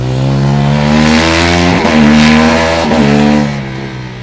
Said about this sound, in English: Car number 86 going over, that's a Spanish car on Madrid with 1:04 seconds